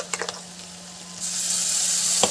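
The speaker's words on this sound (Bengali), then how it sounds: "পেঁয়াজ ভাজা হয়ে গেছে এবার দিয়ে দিচ্ছি আদা আর রসুনের পেস্ট" Ginger and garlic paste hits fried onions in a hot pan for gondhoraj chicken: a few light taps, then a sudden loud, continuous sizzle that holds steady, with no talking.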